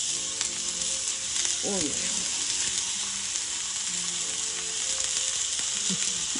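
Food frying in a seasoned cast iron pan, a steady bright sizzle that fills the whole clip, with a few short exclamations from a voice over it.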